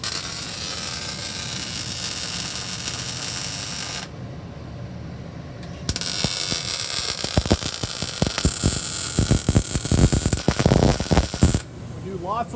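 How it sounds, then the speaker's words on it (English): In a collision repair shop, plug welds are being made. A constant electrical hum gives way to bursts of sharp, rapid crackling and popping that grow dense and loud toward the end. "He's working on some plug welds and some review stuff."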